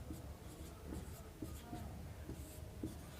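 Pen or pencil writing out a right-angled triangle on paper during a Pythagoras theorem lesson, a steady soft scratching with light periodic taps of strokes, close and continuous with no talk.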